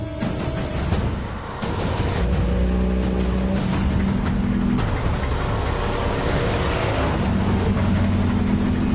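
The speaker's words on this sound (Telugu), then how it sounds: "బండి బయలుదేరింది సార్" A motor vehicle pulls away, its engine rising in pitch as it accelerates, loud and close with a steady rumble throughout; no voices are present.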